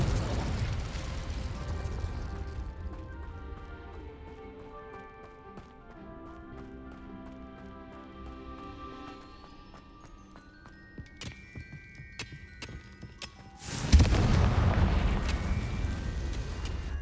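Fiery Confringo spell explosions in the video game Hogwarts Legacy: a soft, tonal stretch of game music gives way to a sudden loud burst near the end, followed by a sustained roaring blast with crackling.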